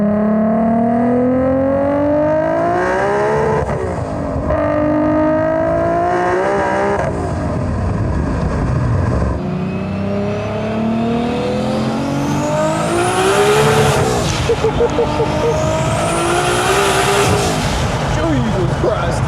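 A 1600-horsepower Toyota Supra drag car roars through hard acceleration, engine pitch sweeping up repeatedly, with loud tire squeal as it slides sideways; close, dense and continuous, with excited voices over it.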